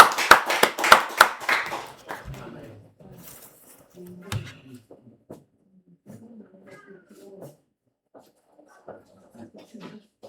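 A church congregation claps in acclamation, a quick run of sharp, loud claps at the start that thins out into scattered, fainter claps and murmuring voices.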